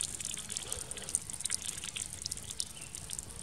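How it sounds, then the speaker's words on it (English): Water trickles steadily from a small bird bath fountain with a filter, a continuous soft splashing and dripping that stays fairly close and even throughout, with no voices. "Nice little trickle."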